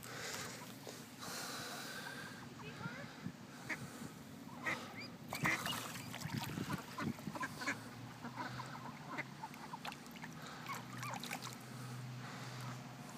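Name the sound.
rescued duck quacking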